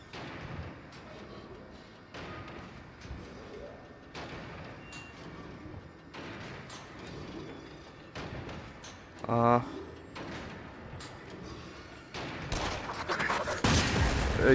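Gunfire in the video game Until Dawn, fired in panic: a sudden loud cluster of sharp shots near the middle, with further bursts of noise toward the end, under ongoing game sounds and someone talking.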